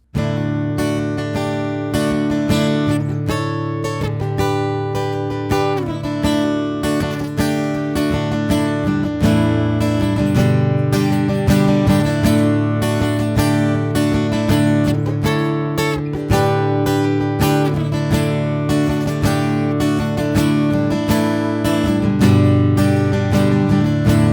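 Acoustic guitar playing a simple, easy-to-remember piece, a steady strummed and picked pattern with ringing chords that carries on without a break, close and clear, with no talking.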